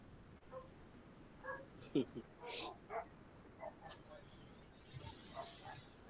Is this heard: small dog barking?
yes